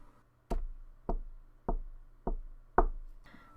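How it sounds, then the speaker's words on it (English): Five sharp, evenly spaced knocks on a door, about half a second apart, the last one louder, against a quiet room with no talk. "Someone's knocking on my door."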